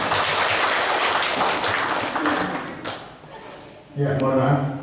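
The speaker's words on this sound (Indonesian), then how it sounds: "Tepuk tangan buat Bapak Ibu guru semua." Applause for the teachers at a school gathering, a dense, steady patter of many hands that fades after a few seconds, followed by a burst of voices and room noise.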